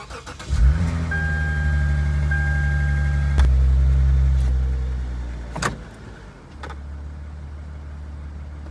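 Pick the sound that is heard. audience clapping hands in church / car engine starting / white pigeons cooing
car engine starting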